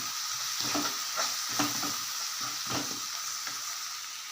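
Tomato, mint and coriander sizzling in a hot pan for rabbit fry, stirred with steady scraping strokes about once a second over a constant loud frying hiss, no voices.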